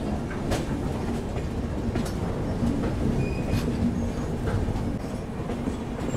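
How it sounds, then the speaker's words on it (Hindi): A passenger train on the Seemanchal Express route rolls slowly through a station in Bihar, a loud steady rumble with wheel clatter and occasional high squeals running throughout, close by. "अब देखो ट्रेन यहाँ पे धीरे धीरे निकल रही है"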